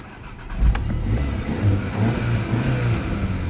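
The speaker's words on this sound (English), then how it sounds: "We've got a loud roar to that engine." A manual Volkswagen Golf GTI engine starts and settles into a steady, throaty idle roar with a couple of brief rises in revs, heard close and moderately loud.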